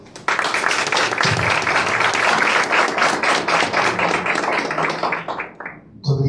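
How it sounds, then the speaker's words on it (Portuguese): Loud, close audience applause after a talk on cyber security and Brazilian law, a dense continuous clatter of many hands that holds steady, then thins and fades near the end as a voice starts. "Mais uma vez uma salva de palmas, por favor."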